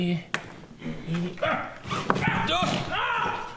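A dog barks and whimpers in short bursts while people talk over it nearby.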